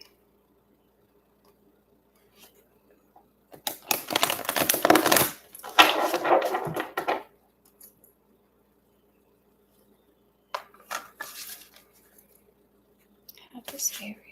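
Tarot cards shuffled by hand at a live reading, two dense bursts of riffling and rustling paper close to the mic, then a few short, softer shuffles after a pause.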